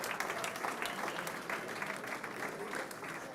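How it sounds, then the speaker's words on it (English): An audience claps steadily through an award ceremony for a Special Teams Player of the Year, dense sustained applause filling the room at even loudness from start to finish. "Devin Burrell, round of applause for our Special Teams Player of the Year."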